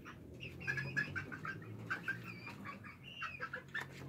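Soft clucking from a white Serama hen, with a few short cooing calls mixed in, repeating in irregular bursts close by.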